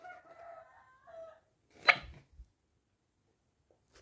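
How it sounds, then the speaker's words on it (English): A rooster crows once, loud and nearby, after some faint earlier vocalizing, followed by a short thump and then near silence. "that was one of my roosters"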